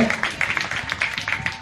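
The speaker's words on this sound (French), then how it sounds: "On va applaudir très très fort pour monsieur le maire" Crowd applause for a mayor at an outdoor donation ceremony for a COVID-19 project: scattered, fairly faint clapping that fills the short moment evenly.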